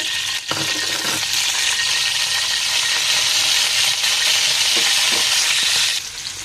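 Soybean oil poured into a hot pan while cooking bitter gourd bursts into a loud, steady broadband sizzle that holds for several seconds and then drops off, close and with no voices.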